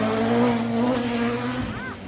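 A front wheel drive rally car at the Snowman Rally stage 5 hairpin drives close by, its engine holding a loud steady drone before the pitch drops and a brief squeal rises out of the corner.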